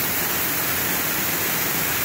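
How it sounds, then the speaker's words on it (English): Deacon Falls, a waterfall in the Heritage Falls group, pours over rocks in a steady, close broadband rush that fills the whole clip without pause. "We've now come down to the bottom of Deacon Falls, which is the second waterfall in the Heritage Falls group."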